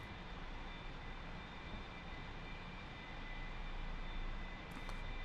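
A heavily loaded A-4 Skyhawk jet climbs out after takeoff in the flight simulator DCS, a steady broadband engine roar holding at an even level with a faint high whine on top, no voices.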